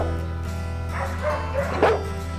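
A pit bull gives a few short, low barks and yips close by, over a steady background hum.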